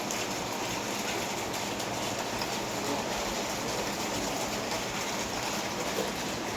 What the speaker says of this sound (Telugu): ఇంత భారీగా వర్షం పడుతుంది చూడండి